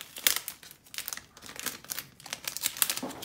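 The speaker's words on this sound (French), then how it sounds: "Petit papier de soie." Thin tissue paper crinkling and rustling close up as a 1/12-scale Mezco One:12 Collective Cyclops figure is unboxed, a run of quick crisp crackles in irregular bursts, fairly quiet and with no talking.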